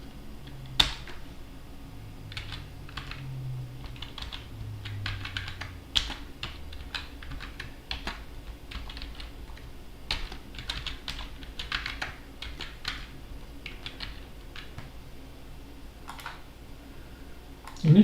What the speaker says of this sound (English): Okay, let me type it.